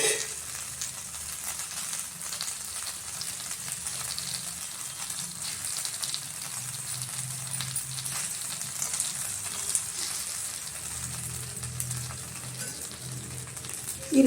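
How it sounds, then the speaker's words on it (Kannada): Rava rotti roasting in oil on a pan gives a steady, close sizzle and crackle, even and unbroken throughout, with faint stirring or scraping touches now and then. "ಈ ರೀತಿ ಎಣ್ಣೆ ಹಾಕಿದ್ದೀನಿ, ಬೇಯಲಿ ಸ್ವಲ್ಪ, ನನಗೆ ರೋಸ್ಟ್ ಆಗಬೇಕು."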